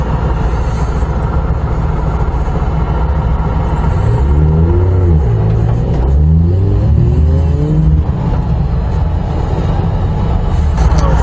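An LS1-swapped Nissan S13 drift car held in third gear on its first lap, V8 engine roaring loud and close as it revs up and falls back in repeated surges, with no talk.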